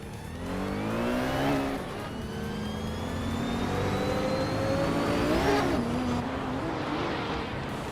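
Race cars in a video game howl past at high revs, engine pitch climbing and dropping as gears shift, loud and continuous with no talk over it.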